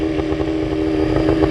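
Mosquito Air helicopter sitting on the ground with both engines idling, giving a steady, close, mid-pitched drone with a faint rhythmic clatter and no talking.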